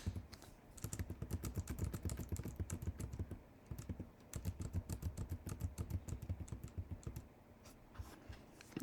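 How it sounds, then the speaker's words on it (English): Quick typing on a computer keyboard while entering a quadratic regression function, a dense run of soft, close key taps in irregular bursts with a few short pauses. "So I'm going to go ahead and type this function in."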